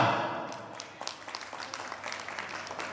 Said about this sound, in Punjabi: ਇੱਕ ਵਾਰ ਜ਼ੋਰਦਾਰ ਤਾੜੀਆਂ